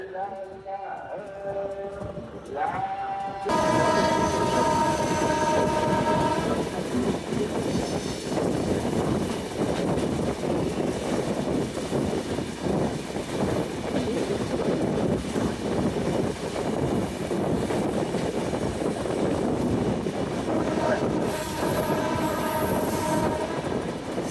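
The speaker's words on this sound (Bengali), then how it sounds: "আমাদের ট্রেনটি এখন ঢাকা নারায়ণগঞ্জ সেকশনের যে রেলপথ রয়েছে সেই রেলপথে প্রবেশ করছে" A passenger train on the Dhaka-Narayanganj railway runs with loud, continuous rumbling and wheel clatter after a quieter start with a voice. A high squeal or horn-like tone rises near the end.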